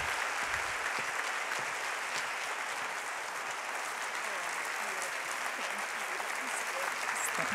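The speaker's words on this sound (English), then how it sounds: "Please give her a round of applause." A large audience at a university State of the University address breaks into sustained, dense applause, an even roar of clapping held at steady loudness throughout.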